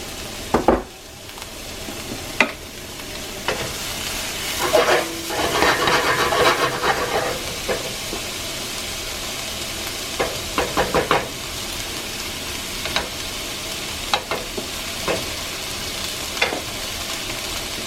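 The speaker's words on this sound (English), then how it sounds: "we're trying to get just a nice sear on the vegetables, a nice little browning on them" Chopped vegetables for a homemade chili searing in a hot pan: a steady hiss and sizzle, with several bursts where the food is stirred and a few sharp knocks of a utensil against the pan, close and without any speech.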